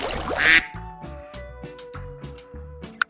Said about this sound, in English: D is for duck.